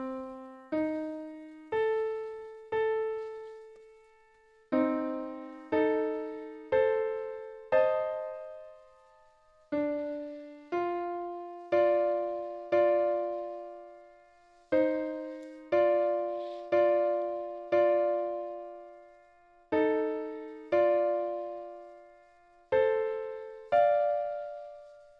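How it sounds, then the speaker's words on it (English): Electronic score built from dyads for a Metaverse VR 2 piece and arranged in Ableton, heard as a steady sequence of two-note chords with sharp attacks and decaying tails, played alone with no talking. "We made a Metaverse VR 2 score using dyads,"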